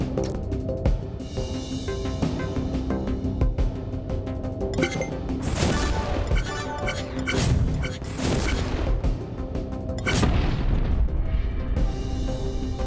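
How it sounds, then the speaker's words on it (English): Missiles firing in the puzzle game Infinifactory, several booming bursts and pops scattered over a dense, continuous mechanical game background. "let's fire our missiles as well."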